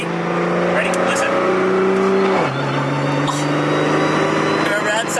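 A 4.1-litre swapped R35 GTR engine making over 1500 hp accelerates from inside the car, a loud, steady drone that climbs in pitch, drops at a gear change and climbs again, with voices heard over it.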